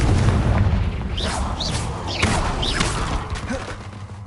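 A rumbling fire-spell blast from the Hogwarts Legacy video game, with a heavy boom and low crackling roar that decays across a few seconds, joined by sharp impact hits and chirpy game effects.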